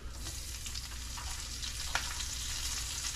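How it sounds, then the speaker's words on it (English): Onion sizzles and fries steadily in rendered bacon fat with almost-crisp bacon, a dense, even crackle close by with small pops and no voices. "My bacon's rendered down. It's almost crispy. I'm gonna go in with my onion."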